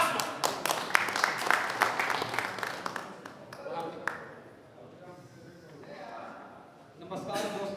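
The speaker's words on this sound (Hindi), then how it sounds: "आइए जोरदार तालियों से स्वागत करते हैं विजय कुमार पासवान" Audience applause welcoming a speaker at a motivational event, a burst of crowd clapping for about four seconds that fades out, followed by someone speaking close to the microphone.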